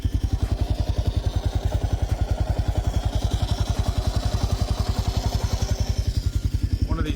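A custom-built motorcycle idles close by, its engine beating in a loud, steady, rapid chug of even firing pulses with no talking.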